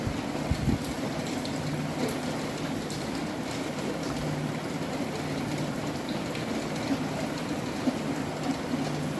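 Steady rain falling during Cyclone Remal amid flooded, waterlogged surroundings, a continuous even wash of drops and running water, dense and unbroken throughout with no voices.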